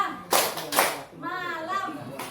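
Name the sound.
children clapping twice in a classroom clapping game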